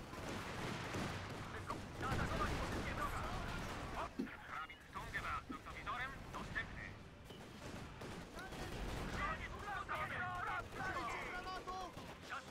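Sniper fire and other gunfire in a war video game form a dense, continuous clatter of shots and battle noise, with someone talking excitedly over it throughout.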